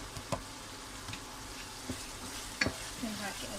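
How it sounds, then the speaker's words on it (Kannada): Ginger, garlic and green chilli frying in a pan for soya curry make a faint, steady sizzle, broken by a few soft taps and scrapes of a stirring spoon, with no voices. "ಫ್ರೈ ಮಾಡ್ಕೊತೀನಿ ಫ್ರೈ ಮಾಡ್ಕೊಂಡಿದ್ದೀನಿ"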